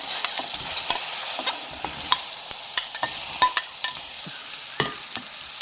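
Ripe bananas fry in hot ghee in a pan with a steady bright sizzle, broken by frequent close clicks and scrapes of a spoon stirring and turning the pieces.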